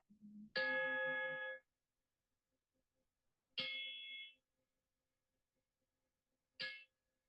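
Three strikes of a meditation bell during a Buddhist dharma session, each a bright ringing tone with a sustained shimmering decay, spaced about three seconds apart, the later strikes shorter and clipped, heard alone with no talk.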